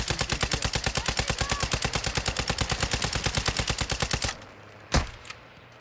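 Rapid automatic gunfire in Call of Duty Warzone DMZ, a steady, evenly spaced burst of shots that stops abruptly, followed by one sharp single crack after a short pause.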